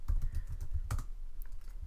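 Typing on a Mac computer keyboard, a steady run of quick, close key clicks with a louder tap near the middle, with no talking.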